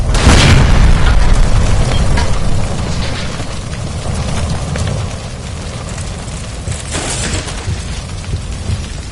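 Gas line explosion in the video game L.A. Noire, a loud booming blast at the start followed by a long rumbling, crackling roar of fire and debris that slowly fades, with another burst near the end.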